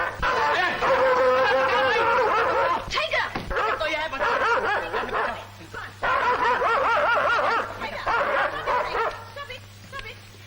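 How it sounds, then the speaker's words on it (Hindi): A dog barks and yips repeatedly in a scene from a 1951 Hindi film, the barks mixed with voices and snickering laughter over steady background hum. "कुत्ता तो मेरी जान ले लेता।"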